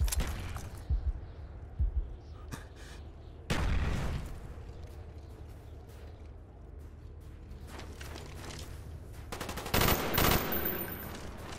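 Burst weapon gunfire in Call of Duty Black Ops multiplayer, sharp clustered shots in short bursts separated by quieter stretches, with a louder burst near the end.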